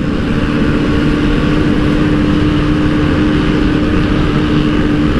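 A Honda Supra Fit motorcycle ridden fast at night gives a loud, steady engine drone with a constant hum and roaring wind rush, close and unbroken throughout with no speech.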